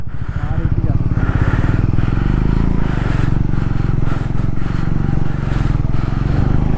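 A heavily loaded Triumph Scrambler motorcycle rides a rough off-road patch, its engine a loud, steady close-up drone throughout with a voice talking over it.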